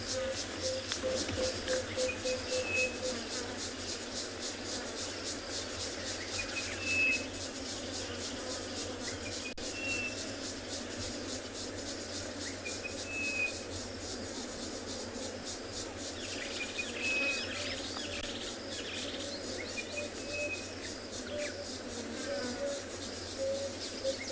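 Birds, including an orange-breasted bushshrike, call with short whistled notes scattered over a steady outdoor background of insect trilling at sunset on safari.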